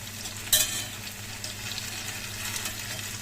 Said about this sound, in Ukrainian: І з іншого боку підсмажуємо.